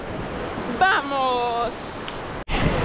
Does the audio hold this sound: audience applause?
no